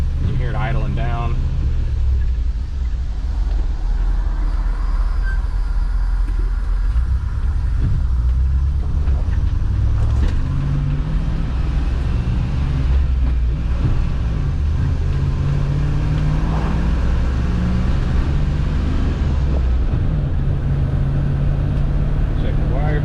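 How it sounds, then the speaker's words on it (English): A 1992 Land Rover Defender 110 V8 with the choke fully off idles down, its low steady engine rumble running continuously under occasional talk. "now I have the choke all the way off. You can hear it idling down."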